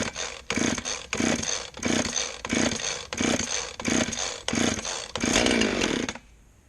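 A chainsaw that has a choke and compression release, being warmed up toward idle, with its engine revved in about eight rhythmic bursts, then one sustained roar that drops off to a low idle at the end, close and loud.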